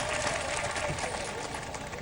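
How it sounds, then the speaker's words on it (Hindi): A studio audience at a political talk show event claps loudly and continuously, a dense wash of applause with a busy crowd murmur beneath it. "और जोर से ताली बजाइए।"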